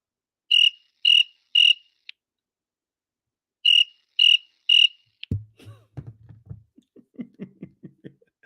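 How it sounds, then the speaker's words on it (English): Cricket chirps sounding alone in short, regular bursts of three with gaps between, clear and close, as a comic silence effect; faint speech-like sounds follow near the end. "Let me get my crickets ready."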